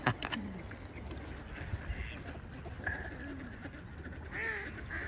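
Ducks quack repeatedly nearby in short, scattered calls over a soft outdoor background, with no talking.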